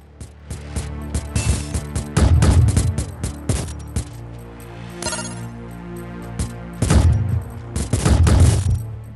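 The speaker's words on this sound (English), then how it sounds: "It shoots everywhere around me." Rapid electronic gunfire from the arcade video game Glitchskier crackles in dense bursts around a steady synthetic tone, with louder clusters of shots near the start and the end, with no voices.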